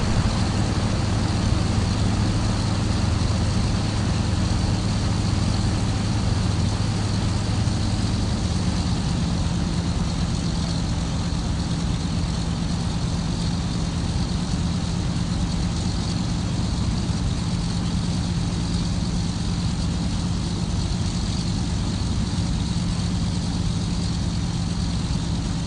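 Aircraft engine in the Flight Simulator X video game holding at the runway ready for takeoff: a steady, loud droning hum that continues unbroken, with a slight shift in pitch partway through.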